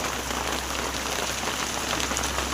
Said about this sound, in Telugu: ఈ సగం దూరం వచ్చినాక వాన స్టార్ట్ అయింది. ఫుల్ వాన పడుతుంది.